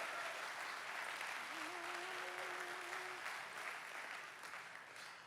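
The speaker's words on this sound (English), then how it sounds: "you can applaud for the hoodie" An audience at a conference opening session claps steadily for several seconds, a dense wash of applause that slowly tapers off, with a brief voice heard over it.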